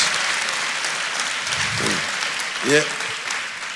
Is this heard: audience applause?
yes